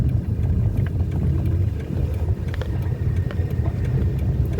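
A car drives along a damaged, temporarily patched village road near Subang, Kuningan, giving a steady low engine and road rumble with faint scattered bumps throughout.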